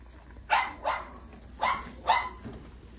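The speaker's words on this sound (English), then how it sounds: "And try to shut the dog up." A dog barks four times in two pairs indoors, loud and close, the barks sharp and evenly spaced, followed by a faint whimper with no talking.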